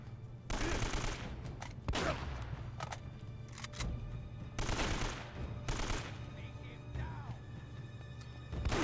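Rapid bursts of blind-fire gunfire in the Uncharted video game, loud, broadband volleys repeating in clusters over a steady low background hum, with brief pauses between bursts.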